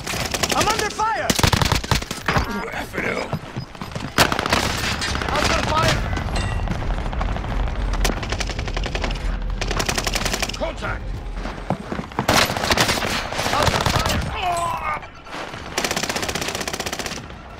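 Rapid bursts of automatic gunfire and shots from a Call of Duty multiplayer match, loud and nearly continuous with short gaps, layered with game voice callouts.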